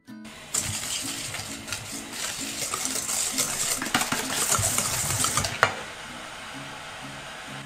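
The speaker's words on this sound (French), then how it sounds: "nous allons blanchir nos jaunes" Egg yolks being whisked with sugar in a bowl for a French pastry batter, a steady rhythmic scraping and clinking of the whisk that carries on close and continuous throughout, with no talk.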